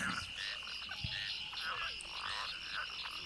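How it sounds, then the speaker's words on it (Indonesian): Frogs croak steadily from a rice field behind a house at night, a dense chorus of overlapping calls answering one another, mid-distance, with no voices. "aku dibangunkan oleh suara-suara katak dari sawah yang ada di belakang."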